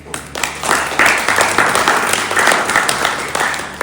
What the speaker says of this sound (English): I'd like to give yourselves a round of applause.